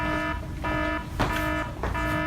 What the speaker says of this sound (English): Gotta see what's making this alarm go off.